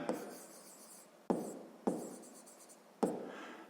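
Pen strokes on paper while a math solution is written out by hand, four distinct scratchy bursts, each fading away, close and alone.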